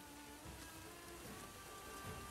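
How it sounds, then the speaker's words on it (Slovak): Steady rainfall hissing evenly on surfaces, soft and continuous, with no voices. "Nakoniec vás nebesá vypočuli. Úžasný dážď."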